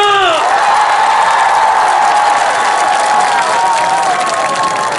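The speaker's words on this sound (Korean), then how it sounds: "다같이 박수와 함성" A large concert crowd claps and cheers loudly and steadily throughout, with scattered whoops rising above the continuous roar of applause, at an outdoor healing concert in Dongducheon, South Korea.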